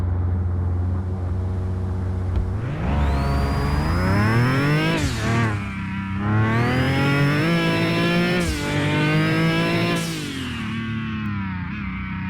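Engine of the Scrap Konig race car in Mon Bazou revs hard in repeated rising bursts, each climbing to a high whine and dropping back to a rough idle, loud and close, with no talk.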